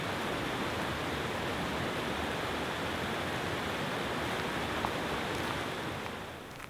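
A forest stream flows in a steady, dense rush of water. The sound holds even and unbroken throughout and tapers slightly at the end.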